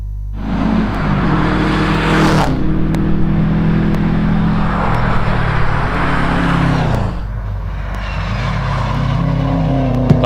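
A Subaru WRX GC8 races up a hillclimb course, its loud close engine revving hard with a sharp gear change, then a steady high-rev drone, a drop as it lifts, and the engine note rising again as it pulls away.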